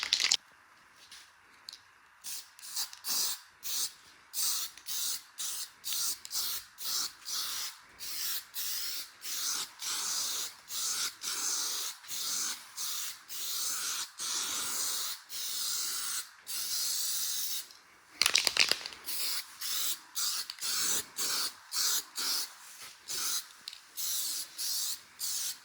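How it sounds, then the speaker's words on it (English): Short repeated bursts of black spray paint hissing from an aerosol can as a light coat goes on, each spray a close, airy hiss with brief pauses between, keeping an uneven rhythm for about twenty-five seconds. "I'm just going to use some regular just black spray paint, nothing fancy, just a light coat over the top"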